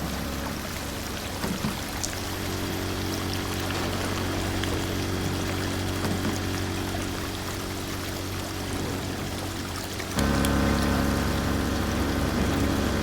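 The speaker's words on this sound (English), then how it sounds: "Yeah, water is coming out of it." Steady rushing of water pouring from a hose in the drain-cleaning game Drain Sim on a flooded farm, a continuous broadband wash that swells louder near the end.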